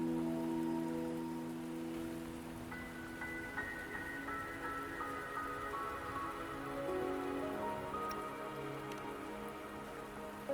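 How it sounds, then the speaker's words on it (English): Steady rain patters on surfaces in the video game Wuthering Waves, an even hiss that runs throughout beneath soft sustained musical tones and swelling pads, with no voices. "Don't worry, the rain won't last much longer."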